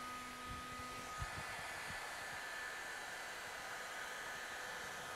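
A heat gun blows a steady, even hiss of hot air while warming car wrap vinyl; the whir holds at a constant level throughout with a few faint low knocks early on and no talking.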